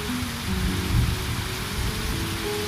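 Steady rain falling outdoors during a 10 km run, a dense continuous patter with a low rumble briefly swelling near the middle, no voices.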